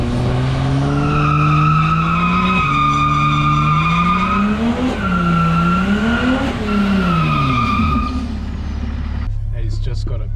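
A freshly tuned drift car of about 700 horsepower revs and slides, its loud engine note rising and falling through wavering harmonics alongside tyre squeal, with people talking over it.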